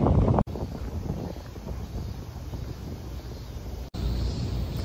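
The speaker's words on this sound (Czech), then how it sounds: "A teď tak jako hezky fouká" Strong wind gusting across an outdoor microphone on a walk in Okinawa, a loud continuous rumbling roar that runs unbroken through nearly the whole stretch, with two brief cutouts.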